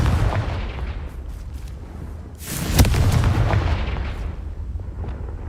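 Spell-cast explosions from the Confringo curse in Hogwarts Legacy, a sharp booming blast midway over a steady rumbling game backdrop, loud and close with a lingering crackle afterward.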